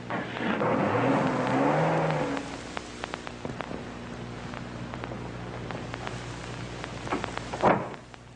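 Car driving away in a radio drama, an engine revving and pulling off in the first couple of seconds before fading into a rain-like hiss with scattered small knocks.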